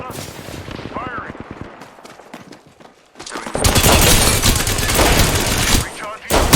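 Sustained automatic gunfire in a video game, a loud dense fusillade of rapid shots that takes over after a quieter stretch, with voices speaking through it.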